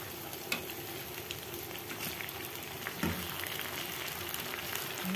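Chicken adobo pieces, just flipped, fry in a pan with a steady, dense sizzle; a couple of sharp spatula knocks against the pan cut through near the start and middle.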